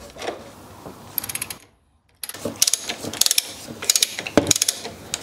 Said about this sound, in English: Here we go, 12mm socket and ratchet.